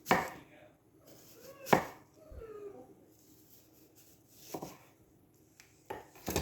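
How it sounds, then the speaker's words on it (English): A knife slices green tomatoes into quarter-inch rounds, giving a few sharp, close cutting thunks spaced irregularly, with quiet soft-spoken talk between the cuts. "cut off this end, and then make your 1/4-inch slices."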